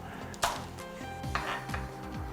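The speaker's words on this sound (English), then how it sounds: "So I'm going to chop the top off." A kitchen knife cuts the top off an onion on a chopping board for a mince and pepper stir fry, giving a couple of sharp, close taps against the board amid low kitchen background noise.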